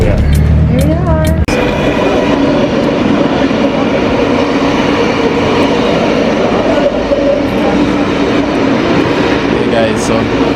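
Train in Sydney rumbling steadily close by, a continuous loud rail roar with wheel noise that swells after a brief burst of voices at the start.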